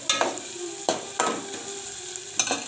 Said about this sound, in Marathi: मस्त तेलात फ्राय करून घ्यायचं आहे वाटण आपलं कच्चं असल्यामुळे थोडं जास्त वेळ तेलात फ्राय करायचं